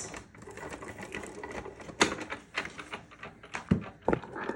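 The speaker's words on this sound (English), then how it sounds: "I'm going to roll it through my Sizzix Big Shot Plus here to cut it out" A Sizzix Big Shot Plus die-cutting machine is cranked to roll a plate with velvet through it. Close, irregular clicking and ratcheting knocks are heard, with a few sharper thumps.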